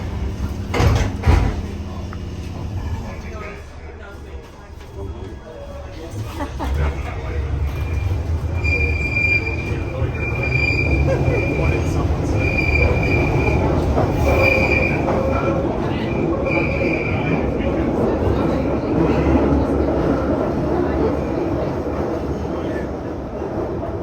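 A South Western Railway train runs through Waterloo in Train Sim World, with a continuous rumble of rolling wheels, high metallic squeals rising and falling, and a brief louder clatter near the start.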